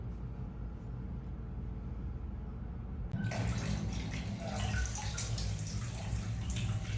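A dull rumble of running water fills a bath basin, then a louder, brighter gush of pouring water starts abruptly about halfway through and continues steadily to the end.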